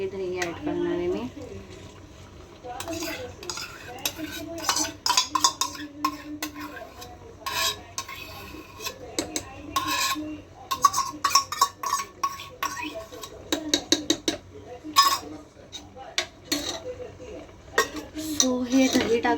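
Yogurt being stirred into chicken pulav in a cooking pot, with repeated scraping and clinking of a spoon against the metal, close and irregular, while a person talks throughout.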